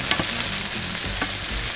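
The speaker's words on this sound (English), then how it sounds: "Our onions are getting a nice little color on them. Beautiful caramelization on those onions." Onions with pancetta caramelize in a hot pan, a steady close sizzle and crackle broken by a few short scraping stirs, with no voices.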